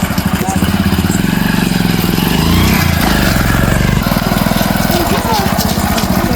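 A motorcycle engine runs close and loud the whole time, a steady throbbing drone that rises and falls slightly as it idles and revs, with murmured voices faintly underneath.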